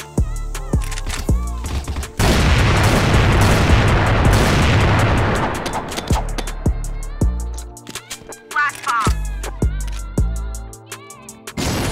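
Smoke grenade going off in the shooter game CrossFire, a long loud hissing rush after a few sharp gunshots, with rapid gunfire bursts continuing around and after it.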